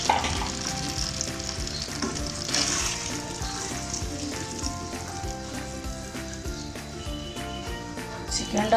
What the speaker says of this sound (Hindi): अब इसको 2 मिनट मैं इस तरह फ्राई करूँगी